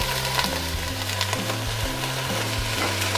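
Broccoli, snow peas, celery, onion, mushrooms and minced garlic frying in a pan for vegetarian mein soup, a steady close sizzle with soft stirring clatter throughout.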